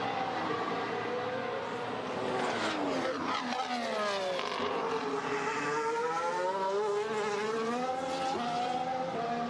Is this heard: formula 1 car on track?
yes